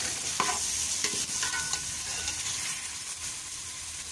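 Soy sauce and vinegar are stirred together in a hot pan for spicy chicken macaroni, giving a steady sizzle with light scraping strokes of a spoon throughout.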